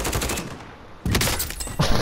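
Rapid bursts of video game gunfire crackle loudly for the first second, drop away briefly, then resume as dense automatic shots through to the end with no talking.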